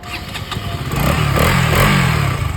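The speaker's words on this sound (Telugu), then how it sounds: "ఫైనల్గా అయితే బైక్ సౌండ్ అయితే" A KTM Duke motorcycle with its stock exhaust runs nearby, the engine note rising into a loud, steady rev with some rattling clatter, and no talk over it.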